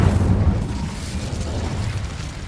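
The Incendio fire spell is cast in the video game Hogwarts Legacy, giving a loud, low roaring burst that rumbles and slowly fades over a couple of seconds.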